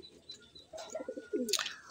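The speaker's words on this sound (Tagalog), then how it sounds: "So yun yung mga ibon natin." Racing pigeons coo softly in a close run of low, throaty notes inside their loft, followed by a brief sharp flutter or chirp.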